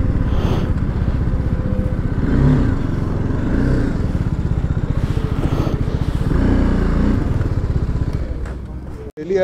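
A BMW motorcycle cruises along a highway with a steady, loud engine drone and wind rush, while a rider talks over the noise.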